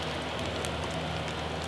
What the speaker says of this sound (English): Now that it's raining quite a bit